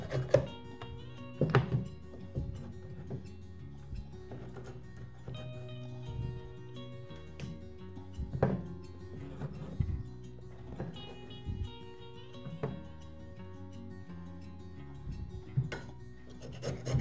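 Beeswax being scraped off wooden honey frames: repeated rasping scrapes and dull knocks of a tool against wood, close and irregular, with quiet pauses between strokes.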